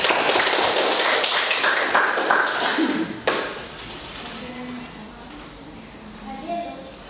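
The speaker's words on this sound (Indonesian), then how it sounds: "Kita tepuk tangan dulu." A class claps together in quick rhythmic bursts of hand claps that stop abruptly, leaving a quieter room with a voice and faint background sounds afterward.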